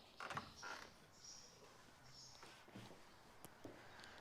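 A door in a reconstructed Roman villa at Wroxeter creaks softly in a few short, faint groans and squeaks, quiet and close with no talking.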